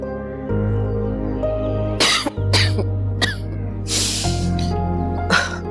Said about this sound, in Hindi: मौसमी बुखार है, ऐसी खांसी हो जाती